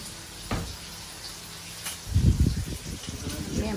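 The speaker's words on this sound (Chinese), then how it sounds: "这是培根呢，" Bacon sizzling in a pan without oil, a soft crackle that swells louder midway and continues steadily, with voices talking around it in a home kitchen.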